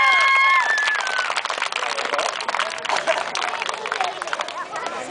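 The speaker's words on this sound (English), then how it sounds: "One more round of applause for Mikhail." A street-show crowd at an Edmonton summer performance applauds and cheers, with thin whistles at the start and dense, continuous clapping that slowly thins out.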